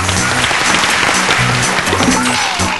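Studio audience applause on a children's TV game show after a timed contest, broad sustained clapping mixed with a low background tone, steady and loud across the whole stretch.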